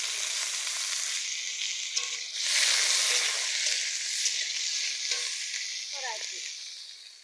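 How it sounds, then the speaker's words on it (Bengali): Potatoes frying in hot oil with five-spice seeds, a bay leaf and green chillies, a steady close hiss that swells briefly, with a few faint scrapes of a stirring spoon. "আলু ভাজা ভাজা হয়ে গিয়েছে"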